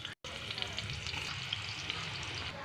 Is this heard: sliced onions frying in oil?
yes